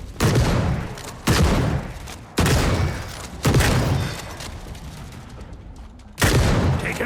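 Gunfire in a video game battle erupts in five or six loud, sharp volleys, each decaying into a rumbling tail before the next burst hits, with no talk over it.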